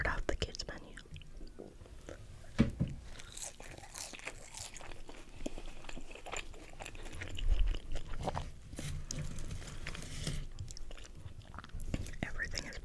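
Close, soft chewing and crunching of a McDonald's Happy Meal chicken wrap, with wrapper crinkles and tearing, mixed with intermittent quiet whispering.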